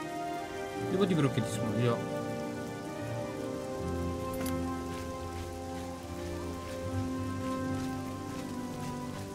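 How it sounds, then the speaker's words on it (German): Rain falls steadily in The Elder Scrolls Oblivion, a soft, even patter lasting the whole time beneath background music, with someone speaking briefly near the start. "Aber es ist auch verdammt häufig hier am Regnen, muss ich sagen."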